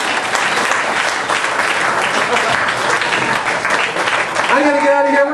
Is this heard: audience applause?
yes